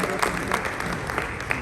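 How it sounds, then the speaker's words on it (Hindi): An audience at an indoor achievement ceremony applauding, a dense wash of clapping that holds steady and fairly loud for its short length. "एक जोरदार ताली।"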